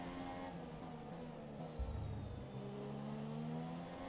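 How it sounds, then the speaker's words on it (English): A loud mail truck engine drones steadily nearby, rising in pitch as it passes, with a rumbling surge midway through. "Good lord, that mail truck is noisy"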